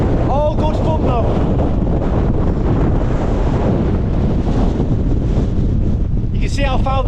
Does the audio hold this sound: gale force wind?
yes